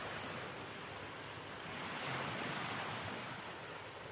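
Steady rushing surf of ocean waves, broad and continuous, swelling slightly in the middle with a windy hiss over it.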